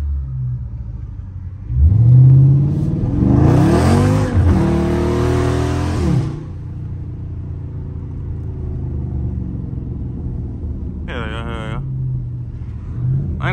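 Dodge Charger Scat Pack revving hard through a downshift while drifting, a loud rising engine roar with harmonic sweeps followed by a steady rumble, then a brief sharp tire squeal near the end; voices talk over it.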